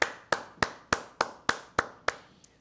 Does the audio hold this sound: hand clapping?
yes